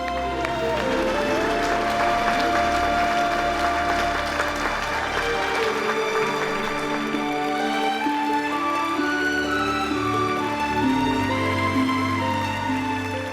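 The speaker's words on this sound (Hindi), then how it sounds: "जोरदार तालियां हो जाए" Audience applause at a stage ceremony honoring a guest, a steady, dense wash of clapping that lasts throughout over continuous music.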